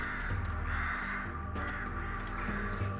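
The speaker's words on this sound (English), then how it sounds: "I hear crows, but I don't see any." Crows caw repeatedly in the video game Pathologic, several harsh calls in uneven bursts over a steady low background drone, moderately loud and alone.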